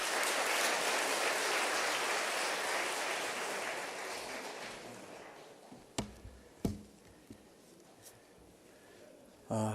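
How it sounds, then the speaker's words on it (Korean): Steady applause from a conference audience welcoming a lecturer fills the first several seconds, then fades out, leaving a few sharp knocks and thuds in a quiet room. "우리 환영의 박수 한번 하겠습니다. 예, 박수 하겠습니다."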